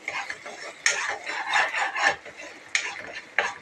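A spoon stirs chicken gravy masala in a pan, a few brisk scraping strokes against the metal with short pauses between them, close and fairly loud.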